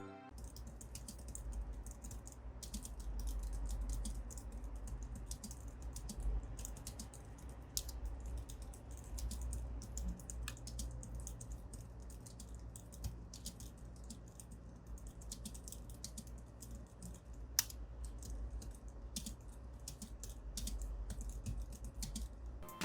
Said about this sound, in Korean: 구매를 고려하시는 분들을 위해서 타건 소리도 한번 녹음을 해봤습니다.